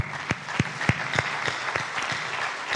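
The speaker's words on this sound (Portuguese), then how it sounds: "Aplauda o Senhor por isso" Applause from a church congregation, individual claps standing out at first and then blending into steady clapping from the crowd, moderately loud.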